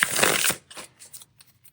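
A deck of playing cards being riffle shuffled, one loud close ripping burst of cards lasting about half a second, then several softer, shorter ruffles and flicks trailing off.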